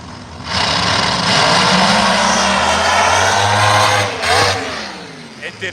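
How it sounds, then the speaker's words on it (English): A car engine revving high in first gear without shifting, a loud, sustained droning roar rising in pitch, holding steady, then briefly surging again before easing off near the end. "It revved way higher than it needed to in first gear."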